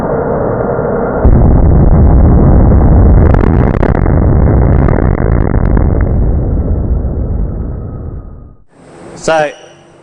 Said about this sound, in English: Let's see if we can get a small explosion.